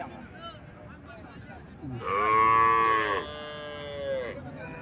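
Several loud Friesian dairy cow moos overlap nearby at a cattle fair in Comilla, drawn-out and bellowing, with faint chatter and farmyard noise beneath.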